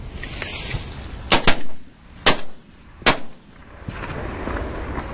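Shotguns fire at ducks during a waterfowl hunt in standing corn: four sharp outdoor blasts come in quick succession, two close together and then two more, over a steady background hiss.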